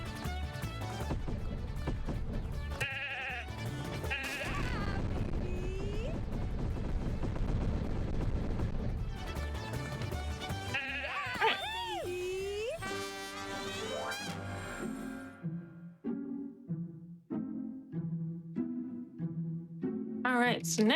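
A sheep in the video game The Good Life bleats a few times amid loud game music and effects, the cries standing out midway before the sound thins into sparse, quieter tones.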